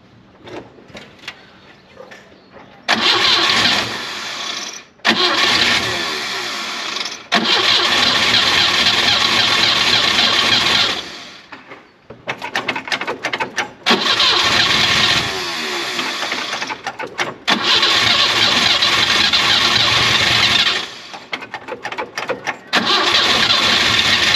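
A Moskvich-2140D car engine cranks and catches several times, with loud stretches of running and revving broken by abrupt stops and quieter starter attempts between them.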